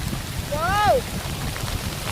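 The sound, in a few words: heavy rain falling on a campsite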